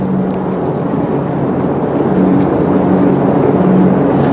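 Loud, steady roar of Sea King helicopters passing overhead in a mass formation flypast at RNAS Yeovilton, a continuous low rumble with throbbing tones and no voices.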